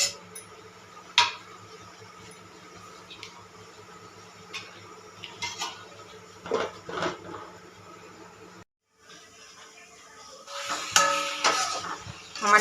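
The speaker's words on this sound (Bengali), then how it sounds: "গ্যাস কম করে নাড়তে হবে, সমানে নেড়ে যেতে হবে, ঢেকে ঢেকে নেড়ে যেতে হবে।" Stem pickle being stirred in a pan over low heat, with soft scraping and clinking of a utensil against the pan recurring irregularly, a brief pause, then busier stirring clatter near the end.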